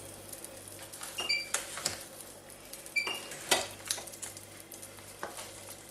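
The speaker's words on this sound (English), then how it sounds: "You can hear it frying there nicely." Lean beef mince frying in batches in a pan, sizzling steadily with repeated scrapes and clinks of a utensil stirring it against the metal, close and fairly quiet.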